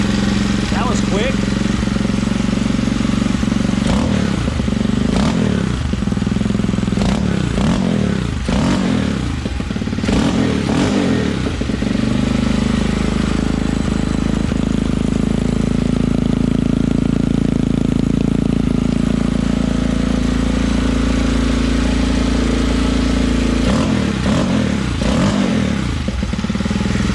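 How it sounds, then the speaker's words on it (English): A 200cc dirt bike engine fitted to a MotoVox minibike runs loud and steady close by, its dense drone overlaid with several clattering thumps and scrapes, and a person talks over it at times. "So let me go ignition and it should fire up."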